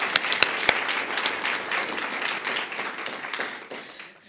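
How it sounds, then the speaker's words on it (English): An audience at a poverty reduction action plan release gives a round of applause: a few sharp, close claps at the start, then a steady, moderately loud patter of many hands that tapers off at the end. "I would like to give her a round of applause."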